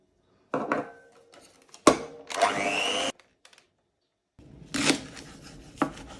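An electric mixer whirs up close in short bursts while whipping a cake mixture, stopping and starting several times with quiet gaps between runs.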